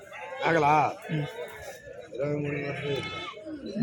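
Goats bleat in wavering calls at a goat and sheep market, one loud and close, then a longer quivering bleat, with a person speaking nearby.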